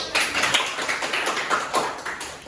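Applause in a classroom during a micro-teaching practice lesson, a short burst of fairly close, uneven clapping from a small group of students that rises and falls over a couple of seconds.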